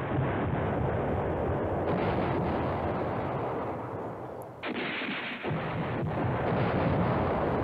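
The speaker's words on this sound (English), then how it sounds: "He's bombing me there." Heavy bombing in the wargame Command Ops 2, a dense, continuous roar of artillery and explosions that stays loud throughout and drops out briefly near the end.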